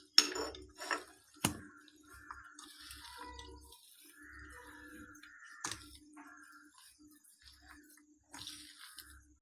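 Boiled potato, ground spices and ground coriander leaves are mixed by hand in a bowl for cutlets, giving soft squishing, scraping and occasional utensil clinks, close and quiet, with a few sharper knocks.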